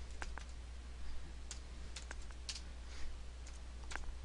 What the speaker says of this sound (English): If we type in an address